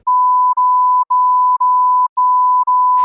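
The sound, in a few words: censor bleep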